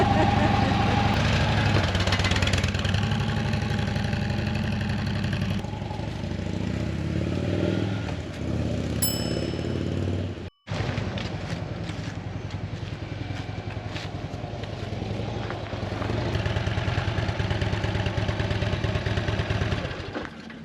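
A Harley-Davidson Road Glide motorcycle engine idles with a steady low rumble and mechanical clatter, close by, briefly cutting out midway before resuming.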